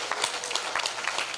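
A church congregation claps in praise, a brisk and fairly close burst of many hands that carries on evenly before cutting off sharply at the end.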